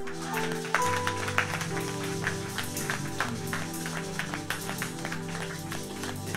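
A church congregation claps and cheers in praise during a worship service, a dense steady patter of hands over sustained musical tones that continues throughout.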